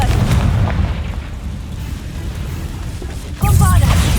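Confringo fire spell exploding in the Hogwarts Legacy video game: a deep, rumbling blast that fills the whole stretch, then swells again into a fresh loud burst near the end.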